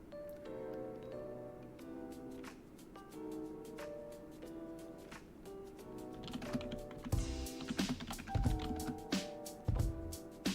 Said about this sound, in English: Also, sorry if my typing is too loud.